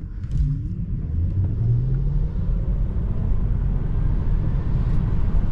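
A 2024 Tesla Model 3 Propulsion accelerating on the road, heard from inside as a loud, steady low rumble of tyres and road noise with a faint rising whine, no speech.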